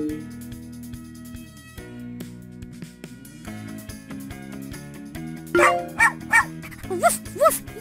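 Bright cartoonish music plays in the PBS Kids game Super Why Woofsters Puppy Day Care, then a small dog barks several times in quick yips near the end, loud and close.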